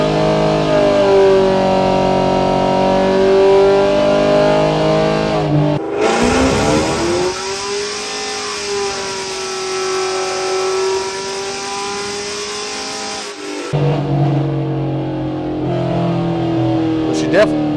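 A cammed 6th-generation Chevrolet Camaro SS engine revs hard and climbs steadily through a long fourth-gear full-throttle dyno pull, loud and close, then drops off as the throttle lifts.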